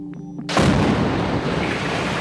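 Explosion from an Israeli airstrike on Gaza: a single loud, sudden boom that breaks over faint background tones and then rolls on as a long, heavy rumble, with no voices.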